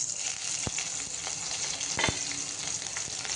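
Cumin seeds, turmeric and green chilies sizzle and crackle in hot oil in a pan over a low flame, a soft continuous frying hiss with a few sharp pops.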